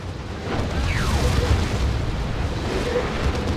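A Phobos tank is destroyed in Dawn of War 2 amid a 3v3 battle, giving a rumbling explosion that swells and holds as a dense roar, with a falling whistle-like sweep through the battle din.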